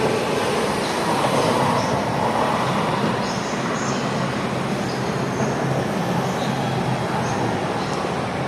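A Vancouver SkyTrain metro train rumbles past Sea Island Centre Station continuously with rhythmic clacking of wheels on rails and occasional faint squeals, steady and fairly loud throughout.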